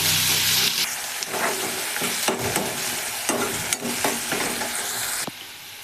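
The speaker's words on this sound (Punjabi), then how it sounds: "ਪਿਆਜ਼ਾਂ ਨੂੰ ਵੀ ਆਪਾਂ ਭੁੰਨ ਲਵਾਂਗੇ" Chopped onions with garlic frying for whole masoor lentil dal, a loud dense sizzle with repeated scraping stirs and spoon knocks throughout, easing slightly at the very end.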